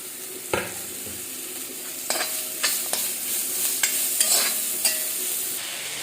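Radish and potato frying in oil with turmeric, cumin and coriander: a steady close sizzle broken by several sharp clacks of stirring, with no voices.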